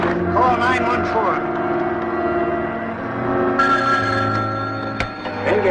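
A telephone bell rings steadily at moderate loudness in a 1979 film scene about calling the gate, with speech over a low hum, and a brief click near the end.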